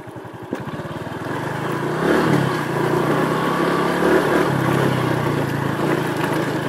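A Honda CRF motocross motorcycle engine runs nearby on a dirt track, a steady droning growl with a short rev rise near the start and a sustained, slightly fluctuating hum throughout.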